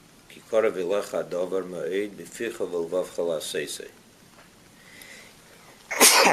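A person speaks for a few seconds, then after a pause a single sharp sneeze bursts out close to the microphone.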